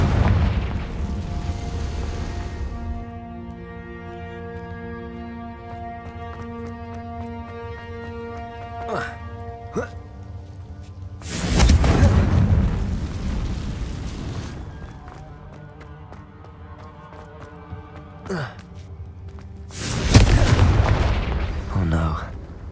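Confringo fire spell blasts in the Hogwarts Legacy game: several loud booming explosions with sharp cracks, separated by quieter stretches of tonal music and ambience.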